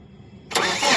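An engine starts after a starter motor pinion gear repair: quiet low rumble, then a sudden loud catch halfway through that settles into a steady running roar.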